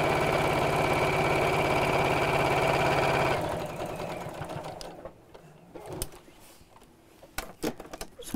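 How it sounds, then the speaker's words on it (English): A sewing machine stitches the turning gap of a child's fabric apron closed, running in a fast, steady mechanical patter for about three seconds before stopping, followed by quieter handling clicks and rustles. "And that will sew the opening closed."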